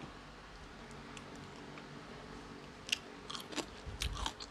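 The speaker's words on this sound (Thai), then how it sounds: "ไหลบัวมีความกรอบกรุบ" Crunchy lotus stolon bitten in a sour yellow fish curry, a few crisp crunching bites arriving near the end after a quiet stretch, close and moderately loud.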